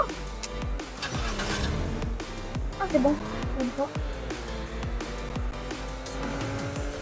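A car engine drives in a video game, its tone rising and falling with repeated shifts and bursts over a steady low hum, with someone talking over it throughout.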